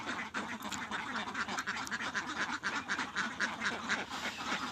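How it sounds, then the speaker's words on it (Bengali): Ducks on a duck farm holding about 300 birds quack over and over in a steady, overlapping chorus, near and moderately quiet. "যেমন এখানে 300টি হাঁস রয়েছে"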